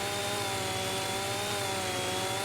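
A rough, angry-sounding chainsaw in a logging simulation game slices through trees, droning at high revs without a break, loud and close, with no one talking.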